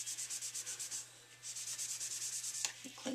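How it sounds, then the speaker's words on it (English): A baby wipe scrubs an embossing folder clean in quick, even back-and-forth rubbing strokes, close and steady, with a short pause partway through and a few light taps at the end. "take a baby wipe and just wipe it clean"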